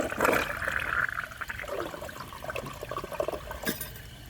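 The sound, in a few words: water refilling toilet tank, Eljer Savoy toilet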